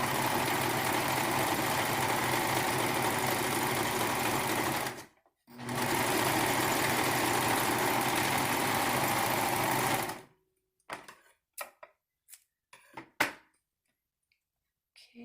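A serger sewing machine stitches fabric for a ninja mask. The motor runs in a loud, continuous whir for about five seconds, pauses briefly, runs again for about five seconds, then stops, and scattered handling clicks follow.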